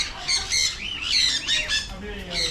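A parrot lets out a series of loud, harsh squawks in quick bursts, close by, with a few brief pauses between calls.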